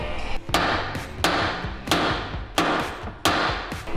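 Hammer blows strike a Porsche Cayenne S chassis during an overland conversion, five loud, sharp metallic bangs spaced roughly evenly, each ringing briefly before the next.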